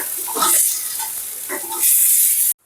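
Thecha, a crushed chili paste, sizzles in hot oil in a pan with close, crackling bursts and scraping stirs, then cuts off abruptly.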